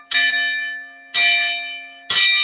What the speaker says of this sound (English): let me ring the bell at special time just for Kamal Prasad from Bartica